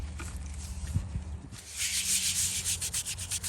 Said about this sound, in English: So this is a natural bristled scrub brush made from the Topeka plant.